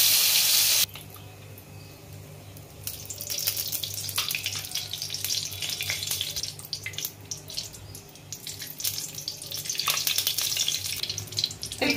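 Koi fish frying in hot oil in a home kitchen after garlic was fried in the same oil, a steady loud sizzle running throughout with bursts of spattering and occasional stirring or clinking, no speech.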